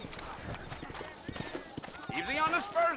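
Horse hooves clip-clopping in the Red Dead Redemption video game, a quick run of hoof knocks beneath someone speaking, with other voices joining near the end.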